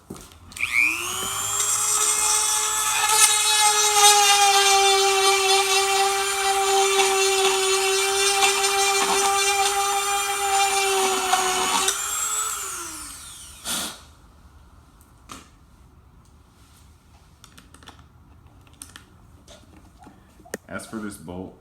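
A power drill bores out unthreaded headlight retrofit mounts on a Lexus GS400, whining steadily at high pitch for about twelve seconds before winding down, followed by a few faint clicks and handling noises.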